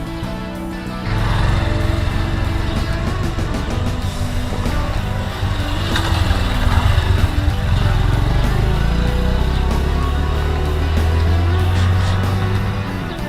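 Several motorcycle engines drone steadily nearby during rider training, their pitch rising and falling as learners shift gears, loud and continuous throughout.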